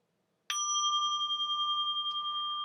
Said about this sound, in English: I call it a Japanese bell bowl